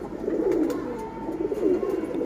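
A loft of silver racing pigeons coos continuously at close range, low rolling calls rising and falling in waves without speech.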